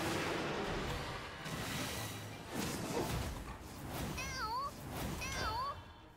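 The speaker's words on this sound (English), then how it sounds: "It sounds more like a meow than anything." Short rising-falling meow-like tones from the video game Portal, two chirpy calls in the last two seconds over a dense, noisy game soundtrack with bursts of gunfire-like hits.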